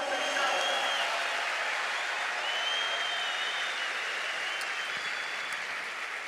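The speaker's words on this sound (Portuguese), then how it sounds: "Uma salva de palmas para vocês que assumiu quem vocês são" Sustained applause from a live audience at a talk on Brazilian personality profiles, a steady dense wash of clapping that holds at an even level throughout with no clear break.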